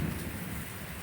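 Heavy rain pouring steadily during a severe thunderstorm in Claremont, New Hampshire, a dense, even hiss with a low rumble underneath throughout the short moment.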